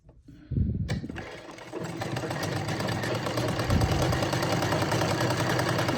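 A sewing machine stitching pleats into a salwar runs steadily and close up after a brief start, its rapid mechanical whir continuing without pause and with no talk.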